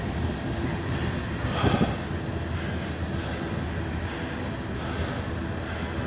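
A train rolls past on railroad tracks in Bridgeport, Alabama, a steady close rumble of cars and wheels with a brief squeal and clatter, continuous and fairly loud, no voices.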